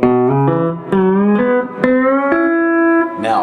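Guitar vamp from a country song, picked alone as a string of bright sustained notes with a clear pitch, struck one after another in a steady, unhurried rhythm.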